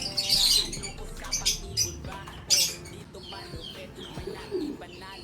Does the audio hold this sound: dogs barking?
no